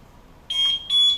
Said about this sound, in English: Check that the buzzer is working, of course, because of course you heard it when it turned on